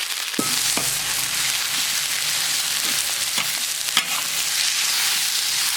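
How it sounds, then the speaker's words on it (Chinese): Minced pork stir-frying in a wok of hot oil with ginger and garlic, a steady loud sizzle throughout broken by a few sharp scrapes and clacks of the spatula as the meat is tossed. "先加油炒肉，多了一点油， 肉末全下进来，姜蒜也一起下。"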